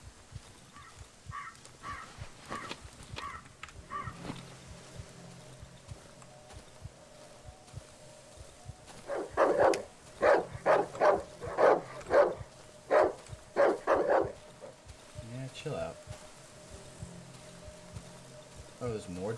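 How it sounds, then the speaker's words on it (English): Dogs in the survival horror game Darkwood let out a quick cluster of sharp, repeated barks in the middle of the scene, set against a quieter ambient backdrop with soft thuds before and after. "More dogs around here? Dang it."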